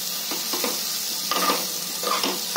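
Peanuts fry in hot oil in a pan for a spicy green chili thecha, with a dense crackling sizzle under continuous, busy stirring and scraping, close up and without speech.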